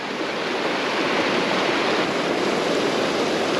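A mountain stream rushes in a broad, steady roar of flowing water, loud and close, with no other sounds.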